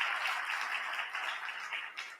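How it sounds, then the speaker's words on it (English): An audience claps in a steady round of applause at a Spring 2019 opening day event, a soft, even patter that holds for a couple of seconds with no voices over it. "Let's give them a round of applause."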